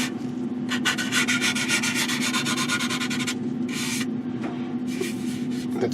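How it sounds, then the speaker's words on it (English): Hand sanding of hardened CA glue on a 1/32 scale model aircraft with 400 grit sandpaper, a close, continuous scratchy rubbing in quick back-and-forth strokes with short pauses. "It's the Infinity 400 grit I'm using, because the CA is pretty hard shit to sand."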